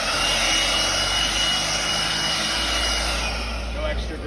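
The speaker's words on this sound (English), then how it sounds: "now we'll go ahead and blow the surface with our blower" A blower clears debris from an asphalt surface, a loud steady roaring rush that holds evenly for the whole stretch with a low hum underneath and no breaks.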